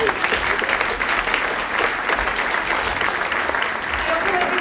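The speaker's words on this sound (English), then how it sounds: "Let's give them a round of applause." An audience at a middle-school choir concert claps in a full, continuous round of applause for the chaperones, dense and fairly loud, with scattered voices and cheers mixed in.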